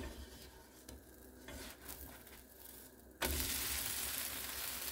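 Dosa frying on a hot pan as oil is poured around its edge, a steady sizzle with faint stirring and scraping, jumping sharply louder partway through and holding a loud, hissing fry to the end.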